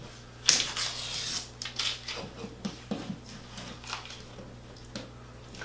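Blue painter's tape peeling off a painted drywall wall, pulled downward rather than outward: a faint, intermittent crackling rip with short tearing bursts, close and quiet with no voices.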